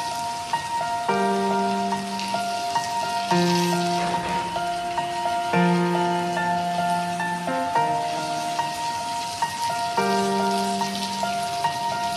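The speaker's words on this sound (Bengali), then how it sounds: "সবজিগুলো ভালো করে ভেজে নেব" Ivy gourd and other vegetables fry in a pan with cumin and Kashmiri chilli powder, giving a steady crackling, rain-like sizzle that runs throughout under prominent background music.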